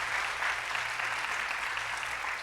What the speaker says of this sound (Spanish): un aplauso más duro para Yameli